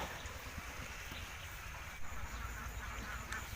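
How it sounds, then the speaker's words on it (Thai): Egg-laying ducks in a rice-field pen eating pellet feed, with faint, distant quacks over steady wind and outdoor rumble. "โอ้น้องเป็ดทำไมกินเยอะแท้"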